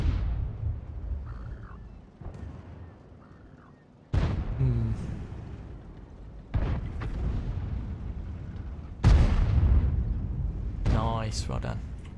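Heavy tank guns boom several times at intervals in World of Tanks during a fight with an IS-3, each blast sharp and loud with a long rumbling decay, while voices talk over the action.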